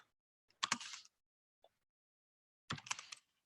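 Two short bursts of rapid keystrokes clatter on a computer keyboard, close and crisp, separated by a quiet pause with a single faint click.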